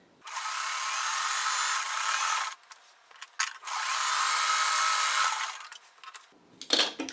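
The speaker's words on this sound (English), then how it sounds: "I'm going to sew down the center of each one of those." A sewing machine runs two long stitching bursts down fabric strips for a crumb quilt block with selvages, steady broadband whirring close by, separated by a brief pause and followed by short clicks and handling noises.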